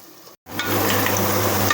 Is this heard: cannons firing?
no